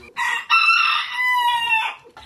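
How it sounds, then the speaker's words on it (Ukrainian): A rooster crows once in a yard among a collection of fowl, a close, loud, drawn-out cock-a-doodle-doo with a short cluck at the start and end. "Щоправда, співати птахи не співають, але голос вже випробовують."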